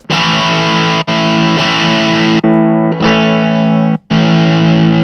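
Electric guitar chords ring out loud and distorted through a ZOOM multi-stomp pedal, patches switched remotely, the tone switching between effect settings with short dropouts where the sound briefly cuts when jumping to distortion.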